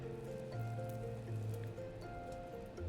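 Downpour spell effect from the video game Final Fantasy 14, a steady hiss of falling rain and pattering drops under layered tonal music, continuous for the whole span.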